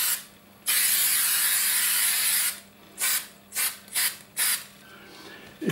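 An aerosol spray can hisses in one long close burst, followed by four short spurts in quick succession, with faint background hum between them.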